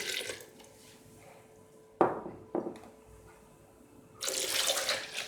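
Milk is poured into a blender over ice cream scoops in a few quiet splashes, then a steadier stream gushes in near the end, close by.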